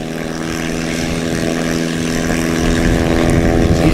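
A 1957 propeller airplane at a STOL practice event drones with a steady engine hum that builds slightly louder over the stretch, with no talk.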